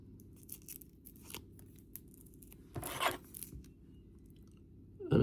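Backing is peeled off an adhesive sanding strip for an alloy wheel spoke sanding tool, a quiet close ripping sound swelling briefly in the middle among small crinkles and handling noises.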